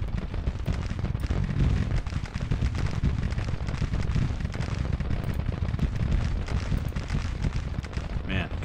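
Artillery fire in the Civil War strategy game Grand Tactician: The Civil War, dense overlapping booms and rumbling cannon blasts forming a loud continuous battle din.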